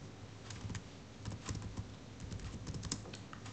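Rapid typing on a computer keyboard while working in a spreadsheet, a steady stream of soft close key clicks with no voices.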